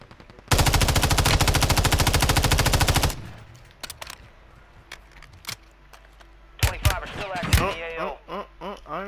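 Rapid automatic gunfire in a battle royale video game rattles off as a loud sustained burst, followed by scattered single shots and impacts, with a voice talking near the end.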